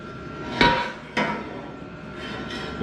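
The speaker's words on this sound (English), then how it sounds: "it has got a lot of slag still and sharp edges on it from it being cut in half. I gotta knock that out." A hammer knocks slag and sharp edges off a steel pipe cut in half, giving two ringing metallic strikes about half a second apart, then fainter taps, close by.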